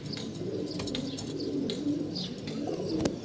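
Domestic pigeons kept by a fancier coo steadily in hot weather, with soft overlapping throaty calls close by and a few faint chirps in the background.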